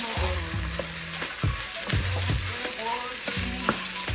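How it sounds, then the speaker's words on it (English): Ground meat for hashweh rice stuffing sautés in a pan, with a constant sizzle broken by repeated scraping strokes of a utensil stirring it. "So I'm still sauteing it a little bit more."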